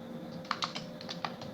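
Code typed on a computer keyboard, a brief run of soft, close key taps at an uneven pace over a low steady hum.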